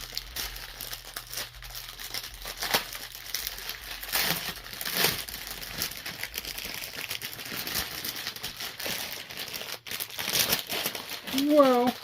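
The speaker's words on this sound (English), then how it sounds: "If you don't like the noise of the crinkling, I'm going to apologize." Plastic packaging crinkling and tearing open on a diamond art painting kit, continuous close rustle and crackle with brief louder tears, a voice talking faintly underneath.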